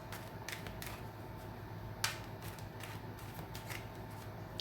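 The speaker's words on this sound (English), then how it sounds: "it's shuffling too close and the cards flip" Quiet, soft riffling of tarot cards being shuffled, with light flicks and one sharper snap partway through.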